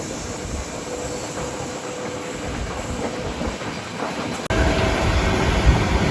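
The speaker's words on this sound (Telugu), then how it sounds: "కొట్టి పడేస్తుంది ప్రశాంతి ఎక్స్ప్రెస్" Prashanti Express passenger train on the Bangalore to Bhubaneswar route rolls steadily along the rails, a continuous rushing rumble with faint wheel clatter heard from inside, growing abruptly louder toward the end.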